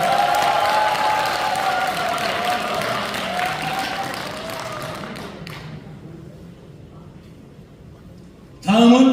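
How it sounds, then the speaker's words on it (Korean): Applause from the audience at a district council member's activity report event in Korea, fading gradually into near silence, followed by a sudden loud thump at the end. "다시 한번 큰 박수 부탁드리겠습니다."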